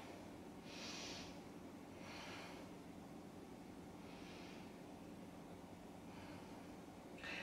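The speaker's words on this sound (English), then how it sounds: "Let's take 3 breaths here." Slow, deep yoga breaths, about four long airy exhales spaced a couple of seconds apart, soft and close over a low steady background hum.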